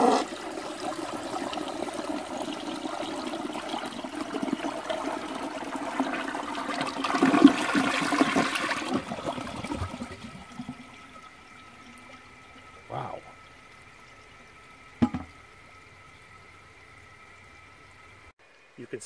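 A 1970 American Standard Cadet toilet set up outdoors flushes with a loud rushing surge of water that drains away over about ten seconds, followed by quieter refill trickles and a couple of brief knocks.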